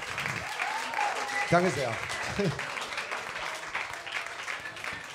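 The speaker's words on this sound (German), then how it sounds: "der Applaus war viel zu leise" Audience applause at a Charivari meet and greet, steady clapping under someone speaking briefly, fairly close and moderately loud.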